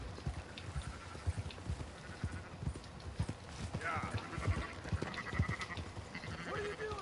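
Sheep bleating in Red Dead Redemption 2 as a flock is rounded up on horseback, with a few short bleats rising over hoofbeats and someone talking throughout.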